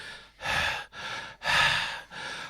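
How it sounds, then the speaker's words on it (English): Heavy, close breathing in four loud, rasping breaths, alternating deep inhales and exhales with brief pauses between them, and no talking. "The first person view of the breathing is a nice touch."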